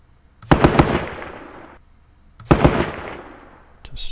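Gunfire in a wargame video game as a unit fires on an enemy stack: two loud, booming volleys of crackling shots, each rumbling off over about a second, with a brief sharp click at the end.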